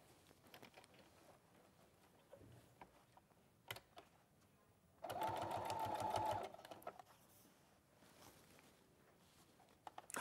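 A sewing machine runs in one steady burst of fast rapid stitching lasting under two seconds in a quiet room, with a few faint clicks and handling sounds before and after.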